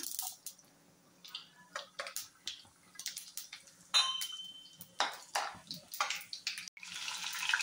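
Mustard seeds, cumin, urad dal and chana dal crackle and pop in hot oil for an Andhra spinach and onion dish, giving a steady run of sharp, irregular sizzling bursts close by, with no talking.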